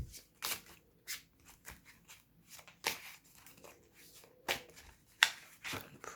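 Tarot cards being shuffled in a quiet room, a run of sharp riffling bursts and soft slaps at an irregular rhythm, close and fairly faint with no talking.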